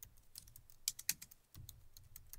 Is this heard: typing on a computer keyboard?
yes